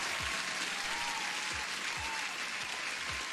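Applause from a live audience welcoming a guest, a steady broadband wash of clapping running throughout at moderate, distant level, with faint low thumps underneath.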